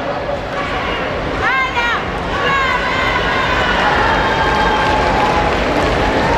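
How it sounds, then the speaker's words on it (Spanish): An audience at the coronation of a fair queen in Zacapoaxtla claps in a dense, continuous roar of applause. Scattered shouts and crowd babble mix in, and whistle-like tones rise briefly near the start. "esos aplausos que se escuchen de todos los presentes"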